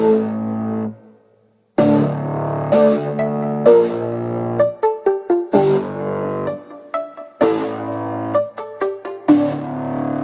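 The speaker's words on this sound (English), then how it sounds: "when you hear the bass and the pluck, it sounds a bit like this" A synth bass line with short plucked synth notes forming a rhythmic beat, loud and upfront, with a brief gap near the start.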